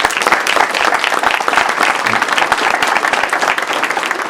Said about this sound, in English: But can we give Roger a round of applause?